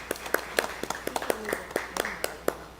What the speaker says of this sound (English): let's give a round of applause for our senior central office staff